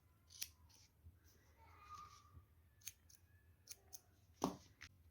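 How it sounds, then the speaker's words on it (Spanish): Scissors snipping crochet yarn while making an amigurumi pig, a few sharp close snips with the loudest cut near the end, over a quiet background. "Cortamos."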